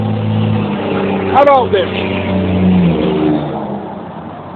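A big truck on a Nevada road revs loudly, the engine note sweeping upward then settling into a rumbling drone, heard from nearby while people talk over it.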